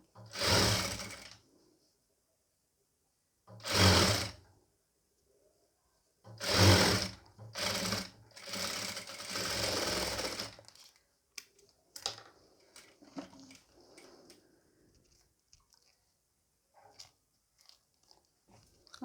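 A sewing machine stitches a nighty in short separate bursts of whirring, each a second or two long, then a longer run, followed by faint clicks and handling noises in a quiet room.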